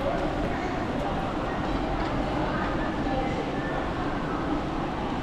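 Passenger train running on a rail journey in China, a steady broadband rumble and rushing noise with deep low-end weight, continuous and even throughout with no distinct breaks.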